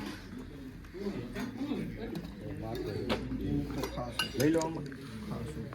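Plates and cutlery clinking as dishes are handled and cleared away at a family engagement gathering, scattered clatter under ongoing nearby chatter, with birds cooing in the background.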